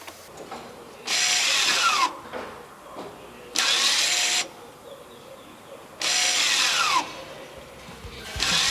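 DBA electric park brake caliper motors run in three separate bursts of about a second each. Each burst is a loud, close, whirring actuator whine with a shifting pitch, separated by short quiet gaps.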